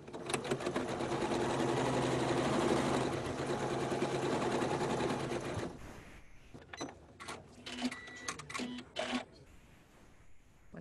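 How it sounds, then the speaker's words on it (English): A sewing machine stitches quilt lines in a long continuous whirring run, then shifts to short stop-start bursts of stitching and mechanical clicks, close and fairly quiet. "I have sewn down both sets of lines right there."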